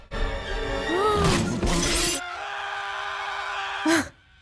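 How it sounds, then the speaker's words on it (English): Glass shatters in The Simpsons Movie, loud bright crashes with debris tinkling, set among film music and effects. "the glass shattered all over them"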